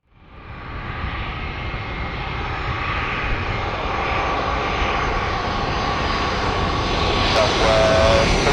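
A Southwest airliner on approach to runway 27 at San Diego roars louder and louder as it nears, a broad, rising engine rumble that fills the air at twilight, with a faint radio call near the end.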